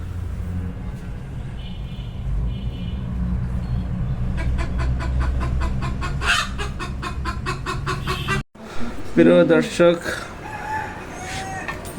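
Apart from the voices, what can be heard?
chicken clucking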